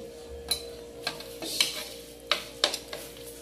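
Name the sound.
ladling papaya soup from a pot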